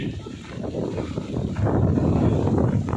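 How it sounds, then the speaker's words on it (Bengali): Strong, gusty cyclone wind (Cyclone Remal) roars steadily and loudly in a village, buffeting close in with a low rumbling rush that swells louder partway through. "প্রচণ্ড বাতাস তো বুঝতেই পারতেছেন বন্ধুরা যে কী অবস্থা"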